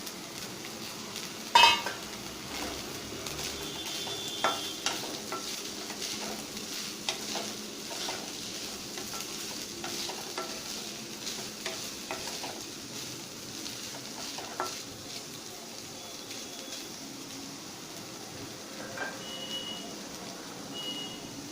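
Boiled peas and nutrela chunks roast in a pan, a faint steady sizzle with occasional stirring scrapes and a brief clink of a utensil against the pan.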